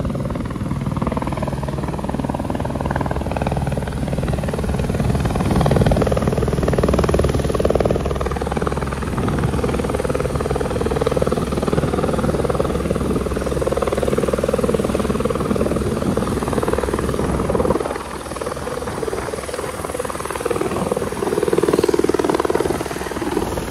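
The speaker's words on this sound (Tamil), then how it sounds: "police helicopter" A police helicopter flies over a mountainous volcanic island, its rotor drone loud and steady throughout, swelling and easing slightly as it passes close by.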